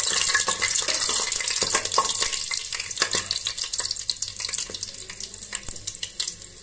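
Cardamom and cloves fry in hot oil in a pan for Assamese fish pulao, a close crackling sizzle broken by spoon scrapes and stirring clatter that slowly thins out toward the end.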